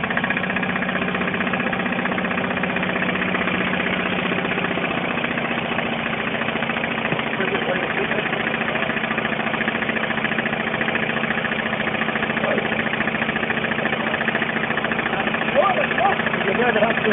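An engine runs with no oil in it during a Neways Roil Platinum oil-additive demonstration, a steady mid-pitched mechanical drone with a rough knocking edge that continues throughout while people talk over it.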